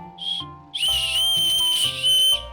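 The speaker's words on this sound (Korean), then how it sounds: "이건 호루라기라는 건데 길에서 위험한 일이 생기면 힘껏 풀어" A shrill whistle shrieks twice, a short toot followed by a longer, louder sustained blast, over faint background music.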